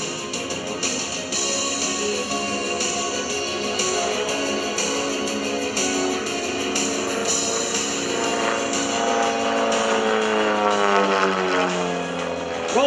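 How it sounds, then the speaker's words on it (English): A biplane's propeller engine drones through aerobatics at an airshow, loud and continuous with shifting pitch as the plane rolls and pushes, the tone rising and bending near the end. "Rolls the airplane inverted, hanging by the belts."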